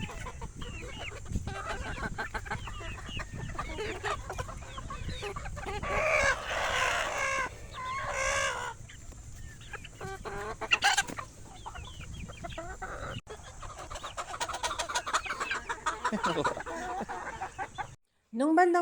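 Game-farm cockerels cluck and crow repeatedly over a farmyard, with loud crow bursts in the middle and toward the end, mixed with scattered clucks and background chatter.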